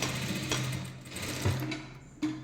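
A sewing machine runs in steady bursts while dot-stitching the folded back side of a kurti's V-neck shoulder during an alteration, its close mechanical whir rising and briefly pausing in a short run.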